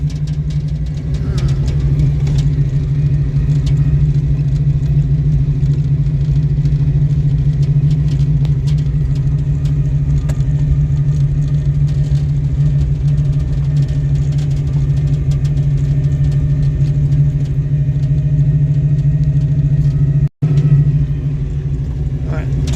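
A Ford Mustang engine runs steadily at low revs during a driving lesson, a constant close rumble with a brief cutout near the end.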